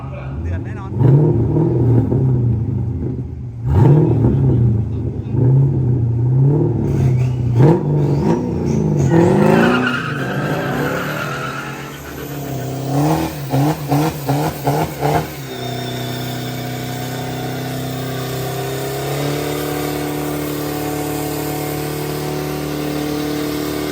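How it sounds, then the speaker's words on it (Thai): Race car with an LS engine revving hard at close range, rising and falling throttle blips that build into a loud, sustained roar before settling to a steady rumble, with people talking over the first part. "ขอฟังเสียง LS สักรอบ"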